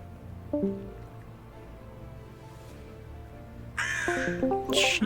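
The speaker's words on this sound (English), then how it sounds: "Where's a crow? I heard a crow." Crow cawing twice, loud and close, harsh raspy calls standing out over a quiet low ambient hum with soft tonal chimes.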